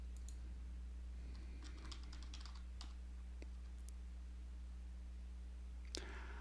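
Quiet computer keyboard typing, a short burst of light clicking keystrokes followed by a few sparse taps, over a steady low electrical hum with no voices.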